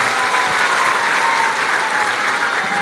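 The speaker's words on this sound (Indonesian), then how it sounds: "Tepuk tangan untuk kita semua" Loud, dense applause from an audience at a pesantren gathering: continuous clapping from many hands, filling the whole stretch at an even level, with no clear voices over it.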